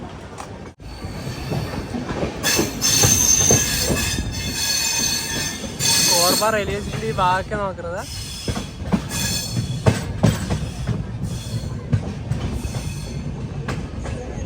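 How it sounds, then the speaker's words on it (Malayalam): A Visakhapatnam–Korba express rolls into Korba railway station, its wheels squealing in loud, wavering screeches over steady rumbling and clacking of the cars, close by, with someone talking over the noise. "കോർബ റെയിൽവേ സ്റ്റേഷനിലേക്ക് ഇതാ നമ്മുടെ വണ്ടി എത്തിക്കൊണ്ടിരിക്കുകയാണ്"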